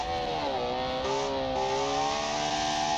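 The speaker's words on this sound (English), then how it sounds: "This car is loud." A loud, steady race car engine roars from a classic Le Mans prototype-style car climbing a Pikes Peak hillclimb in the BeamNG driving game, its pitch rising and falling with shifting revs.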